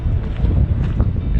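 Strong wind gusts across the open plains of Mulling in Himachal, a dense roaring rush of microphone buffeting that swells and eases in short gusts, close and loud with no talk.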